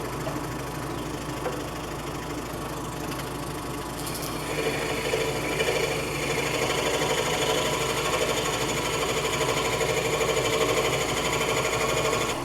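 A quiet power saw, likely a scroll saw, cuts pieces of wood for an intarsia horse, giving a steady fine buzzing whir with light vibration that grows slightly louder partway through, running alone without talk.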